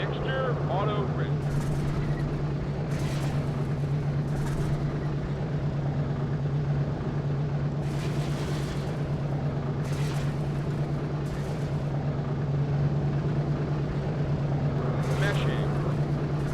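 Four radial piston engines of a B-17 bomber drone steadily and loudly with a deep, even hum while the aircraft taxis, a constant rumble that never breaks, with occasional voices under it.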